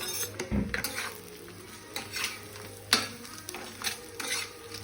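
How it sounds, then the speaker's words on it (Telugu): Egg fry masala is stirred in a pan with a spoon after chilli powder goes in, giving scattered scraping and clinking strokes over a faint sizzle, close and fairly quiet, with no talk. "మొత్తం కలుపుకోవాలి"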